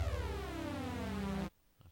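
An unfiltered synthesizer chord sustains bright and dense for about a second and a half, then cuts off sharply into near silence.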